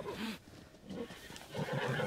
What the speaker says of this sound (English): Oh my god, stop it, horse.